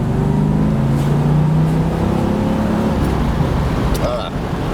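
A 1985 Corvette Z51 engine revs up with a rising drone, loud and close, then settles slightly toward the end.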